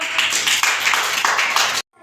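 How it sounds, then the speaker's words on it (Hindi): Children in a classroom clapping together in a quick, fairly close burst of overlapping claps with a slight rhythmic pulse, cutting off abruptly into silence after nearly two seconds. "ताली बजाओ"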